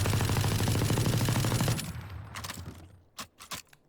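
Automatic weapon firing in Valorant during a recoil test, a sustained rapid burst of shots for nearly two seconds, followed by a few scattered single shots and brief pauses.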